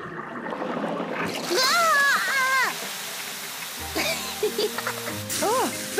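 A cartoon garden hose sprays water in a steady, hissing splatter that runs throughout, with animated character voices speaking over it.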